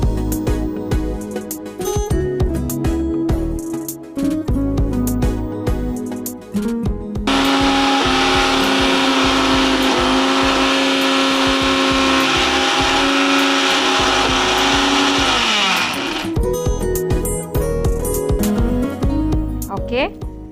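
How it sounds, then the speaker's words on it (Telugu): A kitchen mixer grinder grinds cabbage vada batter of urad dal with no added water, a loud steady motor whine running for about eight seconds between stretches of talk. "మిక్సీ పట్టుకుని వచ్చేస్తాను."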